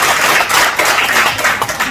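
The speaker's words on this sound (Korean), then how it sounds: "박수 친다고." Audience clapping during a lecture, a brief, close patter of many hands, dense and steady for about two seconds.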